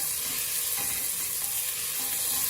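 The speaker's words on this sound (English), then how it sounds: "Just going to saute the onions until it gets golden brown." Onions sauté in hot oil for wudham dal, a loud, steady, close sizzle that runs unbroken without any voices.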